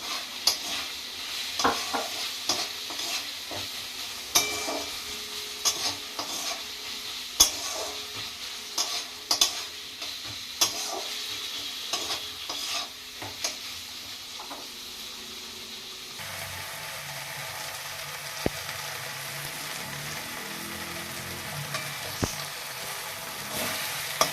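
Chopped tomatoes sizzle in a hot pan as a spoon stirs and scrapes, with intermittent clicks and knocks, steady frying continuing to the end.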